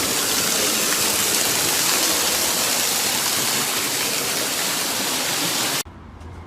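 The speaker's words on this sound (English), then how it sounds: "one more trip back behind the waterfall" A loud, constant roar of a waterfall in the Smoky Mountains, heard from behind the falling water nearby, then cuts abruptly to a quieter background near the end.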